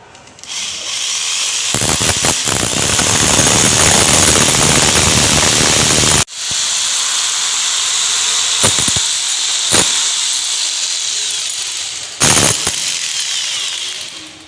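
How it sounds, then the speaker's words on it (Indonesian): A power drill bores a hole in a close, loud whine that runs in two long sustained bursts, stopping abruptly around the middle, with brief gaps and short restarts afterward. "Kita lihat cara dia ngebor."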